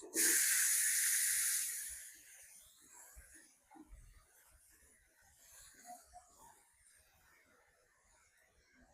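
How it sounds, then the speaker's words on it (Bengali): Cabbage frying in hot oil: a loud sizzling hiss for the first couple of seconds, then dying down to a quiet crackle with occasional soft clinks. "পাতাকপি গুলা হালকা ভাবে ভাজা নেব"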